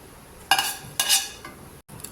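Whole spices (bay leaves, cinnamon, cloves and cardamom) drop into hot oil in a pan while cooking a prawn pakoda curry, giving two quick clattering splashes with brief sizzles and faint rustling after, no voices.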